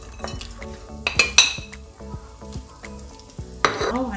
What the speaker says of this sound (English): We're going to put this into the oil